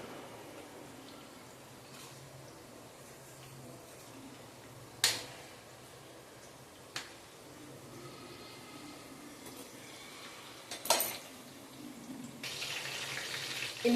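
Potato chips fry in boiling oil as a steady, faint sizzling hiss, with a few sharp pops and crackles breaking through now and then.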